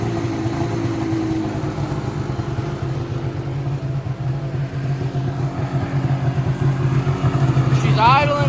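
A Ski-Doo Summit 800 snowmobile engine idles steadily and close by, a low continuous rumble that holds even throughout, rising slightly toward the end.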